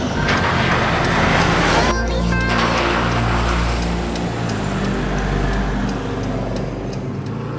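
A vehicle drives on Fraser Island, its engine and tyre rumble loud and steady throughout, with a shift in tone about two seconds in as the drive settles into an even, continuous roar.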